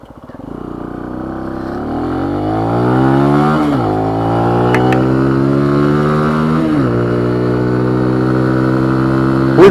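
A Benelli TNT 135 motorcycle is ridden on the road, its small engine droning loud and close, pitch rising through the gears with two shift dips as it climbs steadily in speed.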